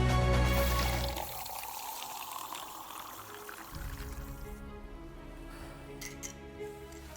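Tap water pours in a steady stream after a louder opening burst, running close and continuous with no voices over it.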